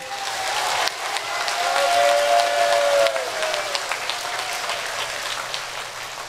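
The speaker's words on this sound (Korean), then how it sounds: "그래 박수 한번 신나게 치세요." A church congregation at a retreat house claps enthusiastically, a brisk crowd of hand claps that rises and stays busy for several seconds, while a thin tonal sound slides through the middle and a faint voice lingers underneath.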